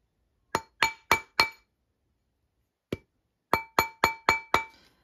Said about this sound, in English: I just need to hammer it a little bit, clean it up some, make it a size 5.